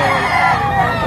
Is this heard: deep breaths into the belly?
no